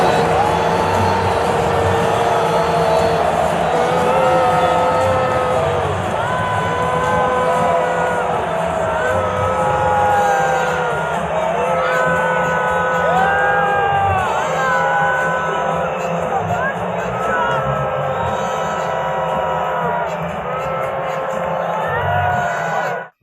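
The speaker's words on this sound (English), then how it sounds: "Massive boos for Donald Trump." A large stadium crowd at the US Open booing Donald Trump, a sustained loud roar of jeers and shouting voices that carries on without pause for the whole stretch.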